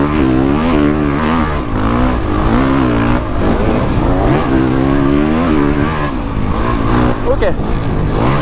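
Honda CRF 450 dirt bike engine revving hard while riding, a loud, continuous rising and falling mid-pitched drone that runs the whole time with a voice talking over it.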